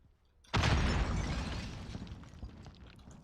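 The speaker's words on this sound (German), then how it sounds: "Granate ist raus." A grenade detonates in the video game Call of Duty: Warzone, one sudden loud blast after a brief quiet, its boom and debris rumble slowly fading over the next few seconds.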